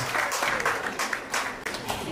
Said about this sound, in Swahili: Karibu, makofi yake yafike.